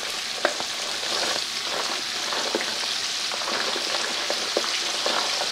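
Sliced onions sizzle in hot oil with cinnamon, cardamom and a little sugar in a home kitchen, a steady crackling fry with scattered sharper pops and stirring scrapes, close and fairly loud, no voices.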